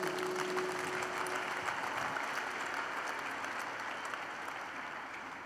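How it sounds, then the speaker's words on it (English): A church congregation claps for Jesus Christ during a deliverance service, a steady, dense wash of applause that stays loud throughout and eases slightly toward the end, with no talking over it. "Clap for Jesus Christ"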